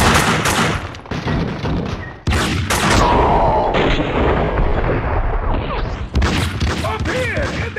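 Loud bursts of gunfire and heavy crashes from a shootout in the video game Max Payne 2, with dense broadband blasts that keep coming almost without a break under shouted voices.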